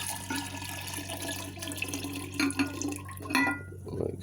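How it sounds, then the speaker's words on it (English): Rice water being poured into a container, with faint trickling and a few soft splashes and glassy clinks over a low steady hum, quiet and close. "here's my rice water wash. I'm gonna go ahead and throw it in here,"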